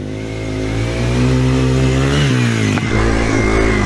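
A Yamaha TW200 motorcycle engine revs loudly and close up off-road, a steady mid-pitched drone that climbs and dips through throttle changes, with no voices.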